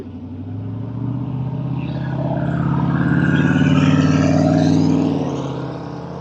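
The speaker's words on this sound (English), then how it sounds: "now that those burnouts are done" A car doing burnouts gives a loud, sustained engine roar with rising revs that swell toward the middle and ease slightly at the end, with no talking.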